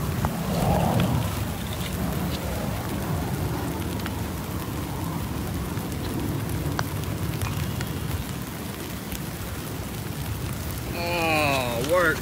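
Rain falls steadily on a golf course, a continuous soft hiss with scattered drops, and a brief chirping call near the end.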